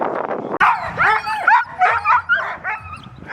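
Excited sled dogs yelp and whine in a rapid string of high, eager barks while being harnessed, close and loud, and no one speaks.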